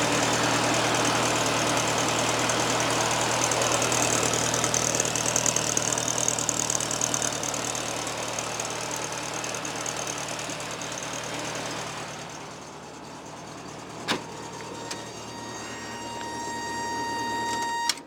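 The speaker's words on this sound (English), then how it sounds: "I'll take you outside, show the engine running." A 1971 Karmann Ghia engine idles steadily at close range outdoors with a constant low hum, then quiets slightly before a couple of sharp clicks near the end.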